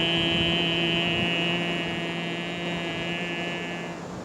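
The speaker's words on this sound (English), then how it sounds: "make a sound loudly from your throat part." Sustained, loud throat sound made during a chin-lock pranayama breathing exercise, a steady buzzing hum held for about four seconds and slowly fading, with no speech.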